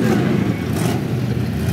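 A 1968 Firebird engine rumbling and revving loudly up close as it rolls along in an outdoor Christmas parade, a deep continuous growl with a brief surge.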